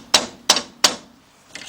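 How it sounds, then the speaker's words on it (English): Three sharp, evenly spaced metallic hammer taps on a 2005 Chevy Trailblazer control arm being driven into its slot, close and loud, each followed by a short ring, with a fainter fourth tap at the end. "just take you a hammer or a rubber mallet"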